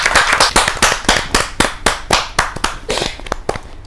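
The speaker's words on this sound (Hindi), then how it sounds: "जोरदार ताली के साथ।" Loud, sharp clapping from a small audience at a Hindi Kavi Sammelan poetry gathering as a poet is welcomed, with distinct, uneven claps repeating steadily through the whole stretch and no talking over it.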